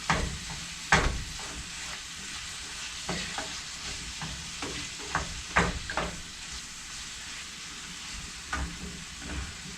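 Meat browning in a pot for chili, a steady close frying sizzle and hiss broken by frequent crackles and pops, with occasional stirring scrapes.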